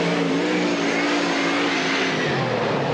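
A sprint car roars through a qualifying lap at Cottage Grove Speedway in 1998. The engine note is loud and steady and sweeps in pitch as the car runs the track, with no voices heard.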